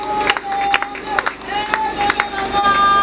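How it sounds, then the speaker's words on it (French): Crowd at a funeral service applauding, rhythmic clapping bursts over a loud sustained tone and crowd noise, with a voice speaking through it. "Est-ce que nous pouvons applaudir avec beaucoup de regrets Naba Maïna Miso?"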